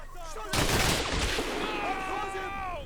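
Bursts of rapid gunfire and heavy shots erupt suddenly in the Combat Mission: Black Sea wargame, a loud sustained fusillade with someone talking over it before and after.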